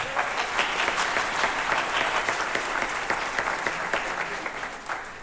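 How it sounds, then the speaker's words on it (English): Loud, sustained applause from an audience at a holiday jazz band concert after a trumpet feature, dense clapping filling the room for several seconds before tapering slightly at the end. "Let's give her a round of applause."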